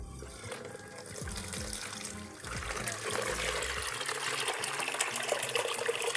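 Water pours from the tap of a water filter into a sink, flushing out filter debris, starting as a trickle with a few drips and then running steadily and louder.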